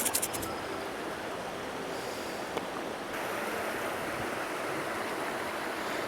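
Turbulent stream water rushes steadily in a broadband roar at a fly-fishing spot, with a brief splashy burst at the start and a constant close wash throughout.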